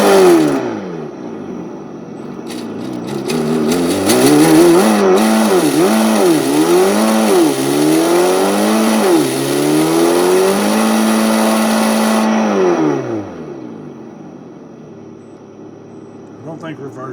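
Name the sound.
Redcat Gen 8 RC car with ESS One engine sound system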